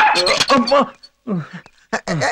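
A dog whimpers and yips in short high bursts, with a person talking over it nearby.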